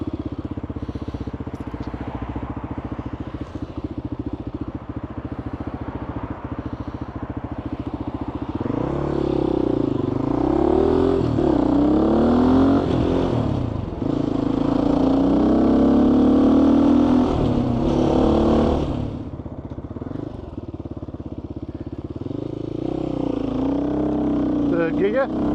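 A GPX FSE250e motorcycle engine idles and then revs and pulls away on a trail, its note rising and falling through gear changes. The engine is loud and close and runs continuously, and a rider speaks over it.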